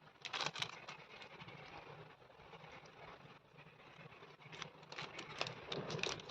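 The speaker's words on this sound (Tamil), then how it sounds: "நல்லா மழை பெய்யுது இங்கே." Rain patters steadily outdoors in a light, continuous hiss with small spattering bursts at the start and near the end, heard alone without speech.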